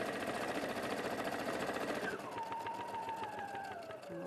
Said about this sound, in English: And then I'm going to anchor that stitch, and then just sew straight along here.